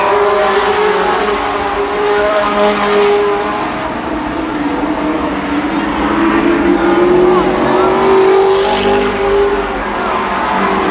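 A pack of race cars battles for the lead at Columbus Motor Speedway, engines droning loud and steady with pitch sweeping as the field roars past, a voice talking over it.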